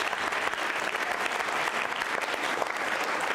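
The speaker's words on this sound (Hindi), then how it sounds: "श्रद्धा पूर्वक तालियां बजाइए उनके सम्मान में आप" At a school quiz show, an audience claps steadily in respectful applause, a dense even patter of many hands close by with no pause.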